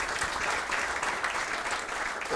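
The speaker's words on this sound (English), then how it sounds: "Maybe a round of applause to the people behind the great man here as well." An audience applauding at a local football interview event, a steady wash of clapping hands at moderate distance with no break across the whole stretch.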